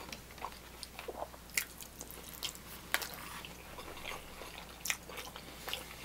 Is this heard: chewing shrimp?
yes